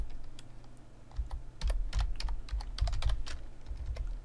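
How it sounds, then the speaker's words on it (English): CSS code is typed on a computer keyboard in quick, irregular bursts of close, crisp key clicks, growing busier and louder midway, with no voices. "so we'll just type that out."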